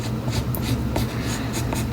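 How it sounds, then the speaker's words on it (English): Close-up scratching of a pen moving across paper in short continuous strokes, soft and steady, with no voices. "Now I just need to finish drawing this silly little conga line."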